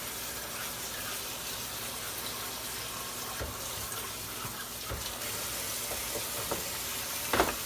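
Aquarium filter parts rinsed under a running tap: a steady, close rush of water splashing into a sink, with a few light knocks and a brief louder splash near the end.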